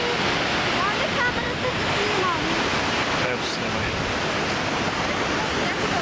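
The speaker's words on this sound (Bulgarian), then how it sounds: "Водопада Скогър Фолс." Skógafoss waterfall in Iceland gives a steady, dense roar of falling water that holds at an even loudness for the whole stretch. Faint voices may sit beneath it.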